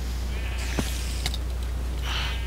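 A brief Minecraft sheep bleat sounds near the end over a steady low hum, with a couple of faint clicks before it.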